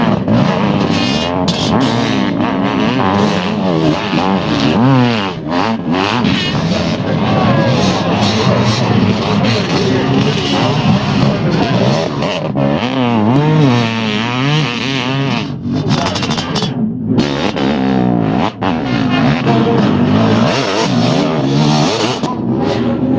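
Kawasaki motocross motorcycles racing in a 500cc event, engines screaming and revving hard with rising and falling pitch as bikes pass, loud and continuous, with a commentator talking over the noise.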